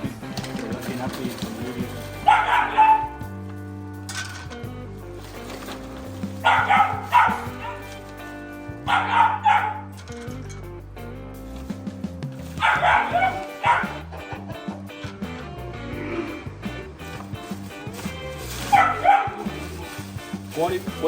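A small dog barks in repeated short bursts, loud and close, with a person talking in between and at times over the barks.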